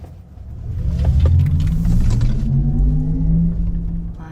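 A Porsche Taycan electric sports car driving, its low rising whoosh and hum swelling steadily and staying close and loud throughout, with no talking.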